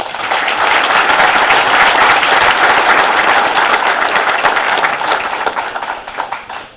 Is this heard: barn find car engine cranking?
no